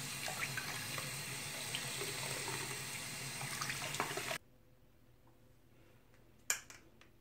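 Water runs steadily from a faucet over a hair topper wig for about four seconds, then shuts off abruptly, leaving near silence broken by one sharp tap.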